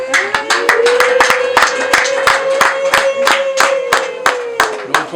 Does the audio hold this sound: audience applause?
yes